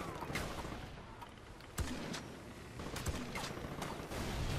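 Gunfire in Far Cry 4 crackles as scattered, fairly faint shots and short bursts over a busy background rumble, with a couple of sharper cracks standing out; no speech.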